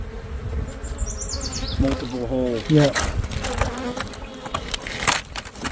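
Killer bees swarm around a hive inside a tree, a steady insect buzz filling the air with individual bees droning close past the mic while a couple of people speak briefly.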